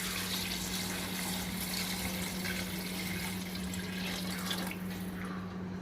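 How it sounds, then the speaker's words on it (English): Water is poured steadily into a cooking pot of softened tomatoes, a continuous close splashing and gurgling stream that runs the whole time with no talk over it. "Now I'm going to add the required amount of water."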